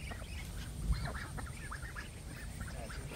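Domestic ducks at a rural Vietnamese home quack in short, faint bursts over a steady low background rumble, several calls overlapping at a distance with no talking.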